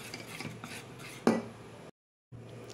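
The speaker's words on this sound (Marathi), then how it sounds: "असं छान याला आपण मिक्स करून घेऊ." A spoon stirs khaman dhokla batter in a bowl with soft, repeated swishing and scraping. One sharper clink rings out against the bowl before a brief silence.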